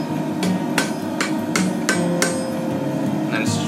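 A hammer forges and flattens hot steel for a pair of blacksmith tongs. Five or six sharp, ringing strikes land at a moderate pace over a steady background hum, with a lighter tap or two at the end.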